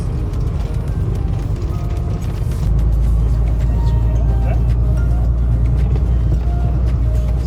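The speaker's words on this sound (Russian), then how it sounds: "Сейчас мы едем по небольшому куску асфальта." A car drives along a short patch of asphalt on an otherwise roadless route toward Dagestan, its steady low engine and tyre rumble filling the cabin, deepening slightly partway through, with no talking heard.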